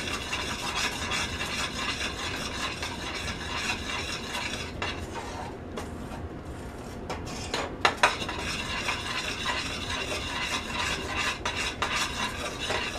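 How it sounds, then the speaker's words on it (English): A utensil stirs bacon brittle in a pot, a continuous close scraping and rubbing with a faint sizzle, briefly quieter midway, then a pair of sharp metallic knocks before the stirring resumes. "So I'm going to keep stirring this."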